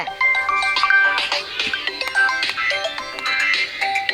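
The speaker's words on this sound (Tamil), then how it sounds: "ஃபோன் வருது" A mobile phone ringtone plays as a bright electronic melody of repeated tonal notes, loud and continuous, with no one speaking over it.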